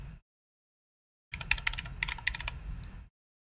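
Rapid clicking keystrokes on a computer keyboard as a password is typed in, a steady close burst of taps lasting under two seconds after a short silence, with no voices.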